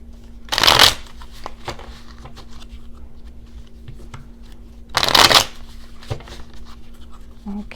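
Two brisk riffle shuffles of a Hermetic Tarot card deck, each a short crisp flutter of cards, several seconds apart and close up, with a faint steady hum underneath.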